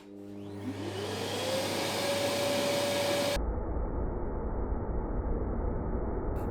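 A vacuum spins up and pulls smoke-filled air through a test box, its motor rising from a whine to a loud steady roar that then drops to a duller, muffled rushing, with no voices.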